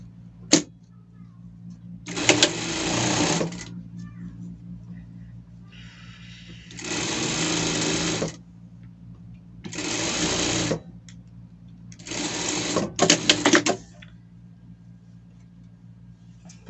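A sewing machine stitches fabric for a bandana in short, loud bursts of rapid buzzing separated by pauses, with someone speaking quietly in between.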